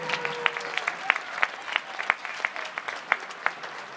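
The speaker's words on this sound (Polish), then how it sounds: "Wielkie brawa!" Fairly faint applause from an air show audience outdoors, a scattered, uneven patter of clapping with sharper individual claps standing out, steady for a few seconds.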